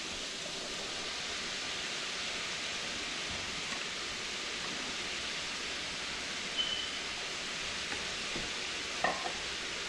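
Peppers hiss into a hot pan of Cuban oxtail stew, a steady, fairly quiet broadband sizzle lasting throughout, with a couple of faint clicks near the end.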